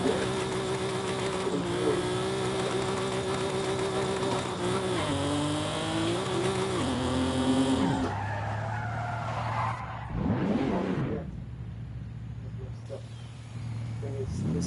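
A car drives and drifts in Forza Horizon 5, its engine droning loudly with rising and falling pitch before long tire squeals and skidding, while people talk over it.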